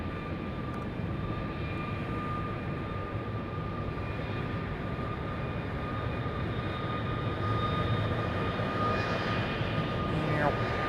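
A jet airliner departing the runway at Raleigh-Durham International Airport in the evening, a loud, steady broadband engine roar with a sustained whine that rises slightly toward the end as the aircraft climbs away.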